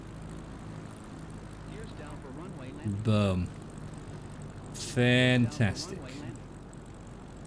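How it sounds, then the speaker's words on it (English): A propeller plane on skis lands on a runway in a flight video game during a North Queensland bush trip, its engine a steady drone beneath a voice that talks briefly and exclaims. "Gears are down for runway landing."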